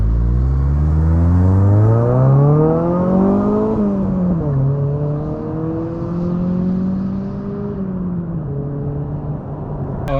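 A car exhaust with a stock muffler revs loudly up to a high pitch, drops back, then rises and settles into a steady drone, recorded up close.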